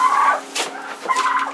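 A farm turkey gobbles and clucks in two close, loud bursts of calls, a short pause between them, with no talk over it.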